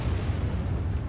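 An artillery explosion in World of Tanks, a brief dense low rumble of blast heard loud and steady with no voices.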